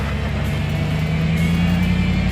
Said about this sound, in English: Is that the tire sliding?